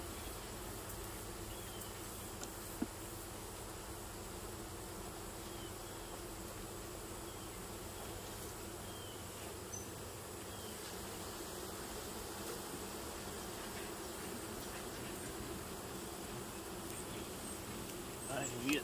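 Bees swarm and buzz around an opened hive as a beekeeper works it, a steady dense drone holding evenly throughout with no pauses.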